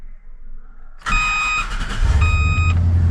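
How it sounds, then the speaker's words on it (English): A 1995 Chevrolet K3500 truck engine cranks and fires up, then settles into a steady low idle, with dashboard chime tones beeping twice over the start. "I turn the truck on."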